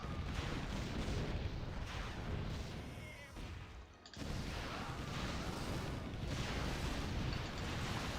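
Artillery fires in the Warcraft 3 Battle Tanks game as dense, rumbling booms and blasts roll on continuously, with a short lull midway before the barrage resumes at full strength.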